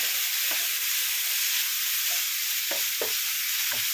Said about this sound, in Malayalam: ഇനി അതേ സമയത്ത് നമുക്ക് 1/2 കപ്പ് ചതച്ച് വെച്ച ഉള്ളിയാണ്. നന്നായിട്ടൊന്ന് വഴറ്റുകയാണ്.